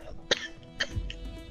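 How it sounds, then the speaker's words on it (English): A person coughs twice in quick succession, short sharp bursts close to the microphone, followed by a low throaty rumble, with faint background hum during a casual gaming session. "Because coughing."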